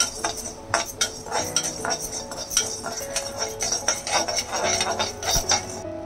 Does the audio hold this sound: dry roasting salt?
yes